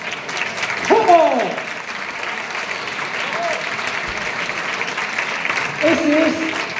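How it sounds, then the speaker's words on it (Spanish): Sustained, even applause from an audience at a nativity scene contest award ceremony, with voices calling out over it now and then. "aplauso fuerte también para Mar"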